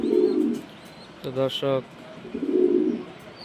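Domestic pigeons kept at home coo in low, rolling bursts, close and clear at the start and end, while someone speaks briefly in the middle.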